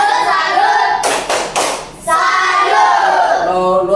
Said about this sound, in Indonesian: kita berikan tepuk salut